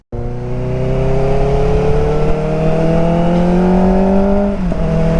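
A Kawasaki ZX-4RR sport motorcycle rides along an expressway, its high-revving four-cylinder engine holding a loud, smooth, steady whine that climbs gradually before a quick shift dip near the end.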